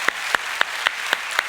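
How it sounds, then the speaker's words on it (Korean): A church congregation gives a short round of thanks, heard as a few evenly spaced sharp claps, fairly faint and roomy, with no voices over them. "박수로 한번 우리 감사 한번 하겠습니다"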